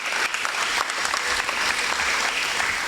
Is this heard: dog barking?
no